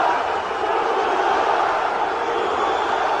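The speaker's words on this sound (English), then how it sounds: "crowd getting behind him early in this one" A large arena crowd cheers for fighter Tukhugov at a mixed martial arts bout, a dense, sustained roar of many voices that holds steady and loud throughout.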